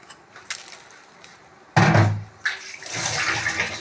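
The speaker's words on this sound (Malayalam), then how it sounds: "പഞ്ചസാര ഞാൻ പാനിലിടാം" Sugar pours into a pan with a soft rushing hiss, starting abruptly and continuing unevenly after a quiet lead-in with light clicks.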